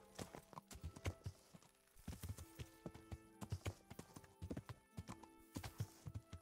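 Rapid video game horse hoofbeats clip-clop steadily, with a few irregular bursts as the horse moves, loud and close with no talking.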